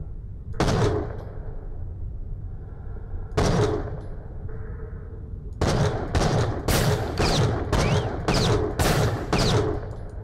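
Gunfire in Borderlands: The Pre-Sequel, loud close shots arriving in separated bursts at first, then a rapid run of repeated shots, with game ambience underneath.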